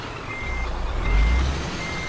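Scania R440 truck in Euro Truck Simulator 2 backing toward a trailer, a steady electronic reversing beep repeating over a low engine rumble that swells briefly, with no speech.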